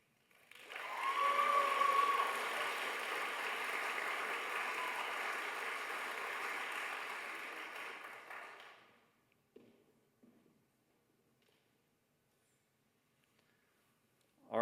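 Sustained applause from a graduation ceremony audience, a dense wash of clapping lasting about eight seconds before tapering off into near silence with a few scattered sounds.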